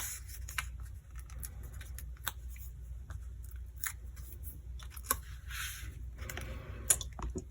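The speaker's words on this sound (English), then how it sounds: "And I'll just peel this off." Paper backing peeled off a die-cut card piece for a Halloween card, heard as a series of small close crackling and tearing rasps scattered over several seconds.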